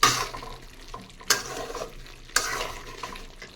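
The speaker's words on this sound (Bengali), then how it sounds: "এই সব মশলা দিয়ে আরও 10 মিনিট ভালো করে কষিয়ে নেব।" Spices for a chicken curry sauté in a pan with a busy frying hiss, broken by two sharp scrapes of a spoon stirring against the pot and lighter clinks between them; no talking.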